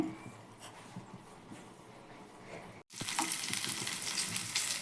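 Paneer cubes fry in ghee in a hot pan, a soft hiss that cuts out for a moment and then returns as a louder, brighter sizzle, with no voice present.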